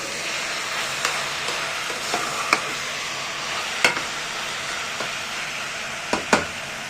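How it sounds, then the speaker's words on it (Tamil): Vegetable biryani mixture with a handful of mint being stirred in a pan, with a soft steady sizzle and a few sharp spoon knocks and scrapes up close. "புதினா ஒரு கைப்பிடி போடுறேன். எல்லாத்தையும் கலந்து விடணும்."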